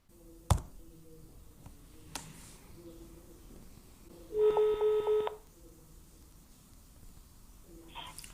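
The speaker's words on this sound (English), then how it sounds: "We dial in the number" Short burst of DTMF telephone keypad tones as a number is dialed on a cloud telephony business phone setup, a quick run of near, clear beeps after a few scattered taps, with quiet before and after.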